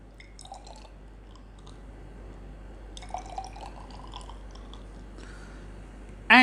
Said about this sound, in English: you have to fill up the test tubes up to half with water